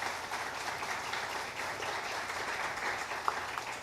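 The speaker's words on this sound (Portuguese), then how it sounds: "Uma salva de palmas por esse missionário." Soft, continuous applause from a church congregation, a distant even patter of many hands lasting the whole stretch with no talk over it.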